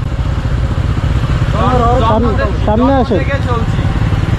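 Motorcycle engine droning steadily while riding on a road between Chandpur and Dhaka, with passengers talking over the continuous close rumble.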